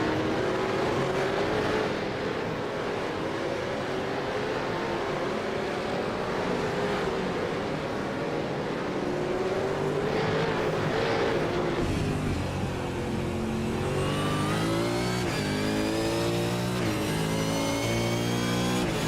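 V8 Supercars race cars lap the Winton circuit in a sim racing game, several engines droning and rising in pitch as they accelerate, overlapping continuously at a fairly loud level.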